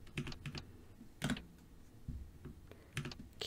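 Computer keyboard typing heard up close but quiet, with short clusters of clicking keystrokes and pauses between them, no voices.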